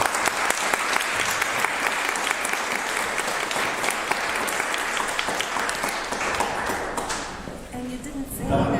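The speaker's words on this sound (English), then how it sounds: "Give a round of applause for our panel." Steady audience applause for a panel at the Unhack Democracy Conference 2022 fills most of the stretch, then fades near the end as voices start talking.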